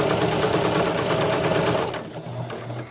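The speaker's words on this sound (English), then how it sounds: "I'm sewing just under 3/8 of an inch so I can catch that lip." Sewing machine stitching a fabric face mask, heard up close as a fast, steady rhythmic needle clatter that slows and softens near the end.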